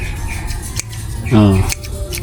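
Pruning shears snip through a plant stem in a vacant garden plot: one short, sharp cut mid-clip over steady outdoor background noise, with people talking nearby.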